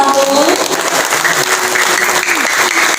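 Applause from an audience at a government ministry launch event, a dense, loud wash of clapping that holds steady throughout, with a few voices audible faintly underneath.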